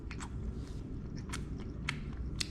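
A bite into a big cooked Patagonian mussel from Trader Joe's gives a few brief close crunchy snaps over a steady low background hum, with no talking.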